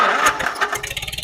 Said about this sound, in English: I basically started up the tractor